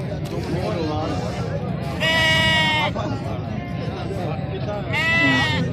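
Sheep and goats at a livestock market let out loud, drawn-out bleats in two bursts, set against a steady crowd murmur and nearby talking.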